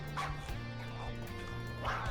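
Mutant dog-like creature in a video game map gives a few short yipping barks and a whimper, fairly close, over a steady low game background hum.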